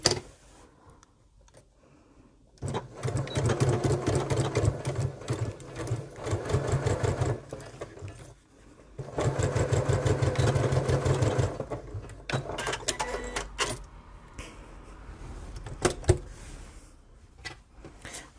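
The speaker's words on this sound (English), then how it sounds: "Now we're going to take this to the sewing machine and sew these two pieces together 1/4 inch away" A sewing machine stitches two fabric pieces together for a tool wallet bag, running in loud close bursts of rapid rhythmic ticking with short pauses between runs.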